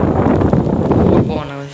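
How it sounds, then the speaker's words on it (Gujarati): Strong wind blowing during a rainstorm on a village rooftop, a steady broadband rush close to the microphone with buffeting gusts that fade near the end. "પવન આવે છે."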